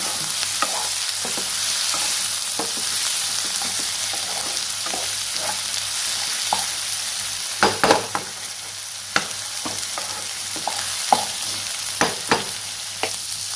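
Salted onions frying in oil in a pan for chicken curry, a steady hissing sizzle close by, punctuated by sharp intermittent spatula scrapes and taps as they are stirred.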